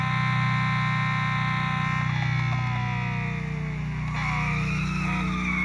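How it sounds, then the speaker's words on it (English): Ferrari F40 LM race car in a racing video game, engine droning steadily with a long tire skid and a crash partway through, continuous and loud with no talking. "Oh man, I haven't crashed here in a long time."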